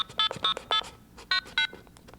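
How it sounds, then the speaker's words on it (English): A rapid sequence of short, bright blue box multi-frequency routing tones in varying pitch pairs, chirping in quick irregular groups like telephone signaling. "then you could set these other special tones in and redirect the trunk line to any place you wanted"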